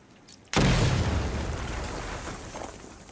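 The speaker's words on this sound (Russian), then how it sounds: "Надеюсь, то, что нужно, я сейчас взрываю." A loud explosion triggered by the player in Batman: Arkham Knight, bursting suddenly after a near-silent moment and then rolling on as a dense, roaring rumble that fades only slightly over the next few seconds.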